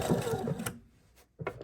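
Sewing machine running a short burst of fixed stitches while sewing a pocket onto a lined apron, with a close, fast mechanical whir that stops briefly and then starts up again.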